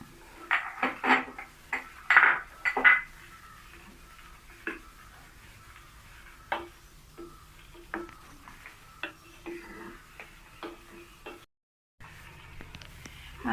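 Almond milk with ground cardamom being stirred in a pan: a run of light, irregular spoon clicks and taps against the pan, moderately close, with quiet gaps and no talking.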